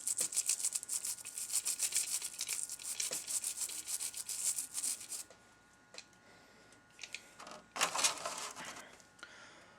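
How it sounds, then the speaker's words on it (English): A mould is scrubbed clean by hand in fast, rhythmic close-up rubbing strokes that run steadily, pause briefly, then resume in a few shorter bursts. "This is where you're really going to do some scrubbing. Really get in there and scrub her good."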